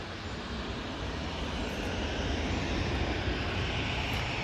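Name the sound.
jet airliner engines at Manchester Airport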